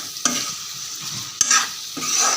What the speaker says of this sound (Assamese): পানী দি ভাজিবলৈ ধুনীয়াকৈ হেৰি কৰিছে